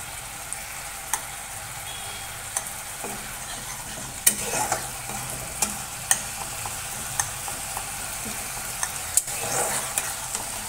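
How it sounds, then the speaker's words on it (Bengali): Chili and turmeric powder with salt and a little water stir-fried in a pan, a soft steady sizzle punctuated by sharp scraping clinks of a spoon against the metal at irregular intervals. "দিয়ে একটু মশলাটা কষে নিই।"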